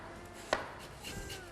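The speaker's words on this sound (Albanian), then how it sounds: "Edhe pataten i presim holl." A kitchen knife slices a potato thinly for a potato and mushroom soup. One sharp, close chop on the board is followed by a couple of softer cuts in a quiet room.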